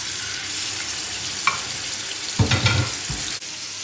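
Onions and garlic frying in melted butter, a continuous bright sizzle with several stirring scrapes and knocks against the pan.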